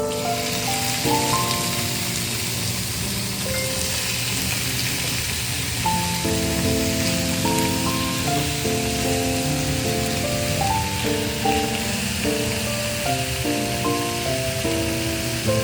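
Chicken sautéing in a hot pan with shiitake mushrooms for a Charlie Chan dish, a steady rain-like sizzle running throughout, with a brighter tonal layer of background music over it.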